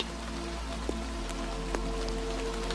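Steady rain falling and pattering on a surface, an even close hiss with a few distinct drops landing, continuous and alone throughout.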